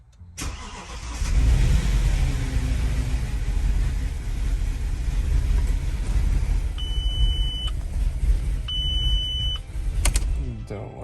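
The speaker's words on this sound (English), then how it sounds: "So we'll start the car." Audi Q7 with a multiple-cylinder misfire cranks and starts, then runs loudly and steadily close by, with two short electronic beeps partway through.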